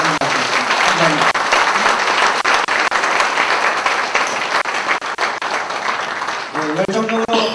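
Sustained, loud audience applause fills a hall after a political lecture at a Democratic Party local event, dense clapping throughout with a voice speaking briefly near the end.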